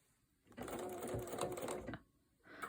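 A sewing machine fitted with a walking foot stitches around curves, one close, steady burst of rapid mechanical whirring lasting over a second, with a brief short run again at the end.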